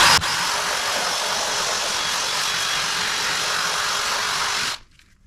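A power drill brush scrubs a WeatherTech car floor mat with a loud, steady whirring buzz up close, then cuts off abruptly near the end.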